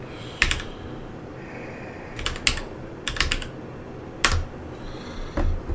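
Typing on a computer keyboard while setting up a virtual machine, with short clustered bursts of clicky keystrokes separated by pauses, close and fairly quiet, with no talk.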